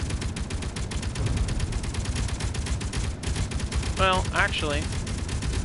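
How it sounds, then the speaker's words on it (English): Rapid gunfire in the underground survival game Helios, dense repeated shots running throughout at steady loudness, with a voice speaking briefly near the end. "Alright, that's a lot of gunfire."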